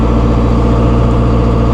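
A 2016 John Deere 5100E utility tractor with a 100 hp engine runs with its PTO engaged near 540 PTO rpm, giving a close, steady, unbroken mechanical drone.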